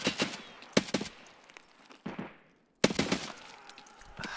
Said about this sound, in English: Dude, I'm shooting 545 BP.